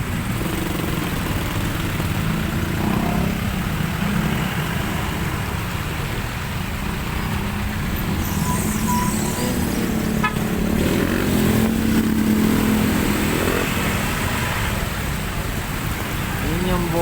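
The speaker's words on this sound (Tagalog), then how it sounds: "Ayan guys, napaka-traffic dito." Busy traffic outside a church complex where a sampaguita vendor works, with a continuous dense roar of cars and motorcycles passing nearby, engines droning steadily throughout while people talk over it.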